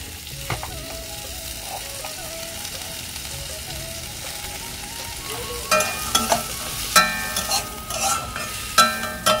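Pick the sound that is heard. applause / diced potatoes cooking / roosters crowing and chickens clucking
diced potatoes cooking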